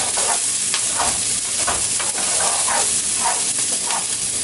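Onions and shallots fry steadily in a pan, a dense continuous sizzle with soft stirring scrapes recurring every second or so, close and loud with no voices.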